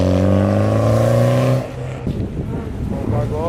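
A Mitsubishi Evo at a night car meet in Illinois revs hard in a loud, rising engine note, then drops off into crowd noise with people shouting nearby and another brief rev at the end.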